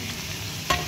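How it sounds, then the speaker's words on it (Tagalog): Carrots fry in a hot pan with a steady oily sizzle and the scrape of stirring, ending in a sharper burst of crackling near the end. "prito natin yung carrots"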